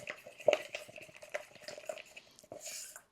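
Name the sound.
stirring and scraping a mixture in a container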